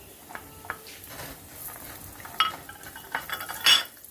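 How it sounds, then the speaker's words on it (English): Raisins tossed into hot ghee beside browning cashew nuts and stirred, giving scattered light clinks and soft scraping taps of a spoon in a pan, quiet and close, with a few sharper clicks toward the end. "I'm going to add the raisins now."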